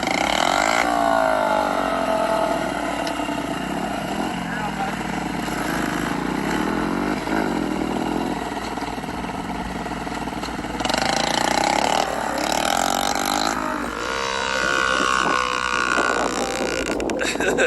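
Small kid's motorcycle engine with training wheels buzzing and revving steadily, loud and close, with shifts in pitch as it changes gear, under excited talk and commentary.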